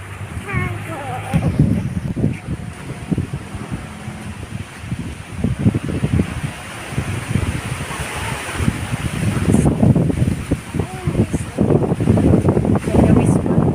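Strong gusts sweep through a backyard on a windy afternoon, a loud continuous roar with rumbling buffets against the microphone that rise and fall, and a few faint bird chirps early on.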